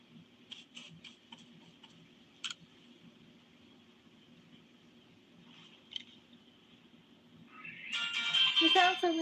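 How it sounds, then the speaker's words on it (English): A phone-like object in Pokémon Legends Arceus gives off soft, repeated electronic beeps and ticks over a low game hum, ending in a brighter, louder chiming burst. "There's a glowing, beeping object over there."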